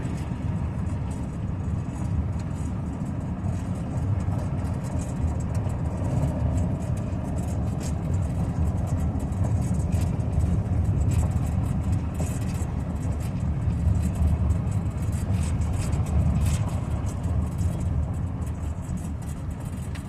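A 1964 Oldsmobile drives along a gravel road, its engine giving a steady low rumble mixed with constant tire and road noise throughout, close and even in level, with no talking.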